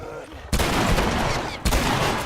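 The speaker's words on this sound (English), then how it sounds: "I'm just gonna take the revolver and 1, 2, 3, 4, 5, and he's dead." Revolver fire in The Last of Us, two sharp loud shots with abrupt onsets about a second apart, each followed by a sustained ringing, noisy tail.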